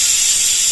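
Pressure cooker cooking aloo kachalu, releasing steam through its whistle in a loud, close, continuous hiss lasting under a second.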